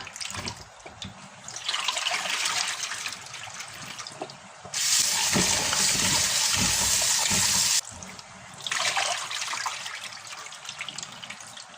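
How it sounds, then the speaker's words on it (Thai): Running tap water splashing steadily into a bowl or sink while pickling mangoes are rinsed after soaking in brine, loud and close, with a louder rushing stretch in the middle and no talking. "พอเราแช่น้ำเกลือเสร็จแล้วเราก็มาล้างยางมะม่วงออกนะคะ ล้างออกสักสองสามน้ำนะคะ"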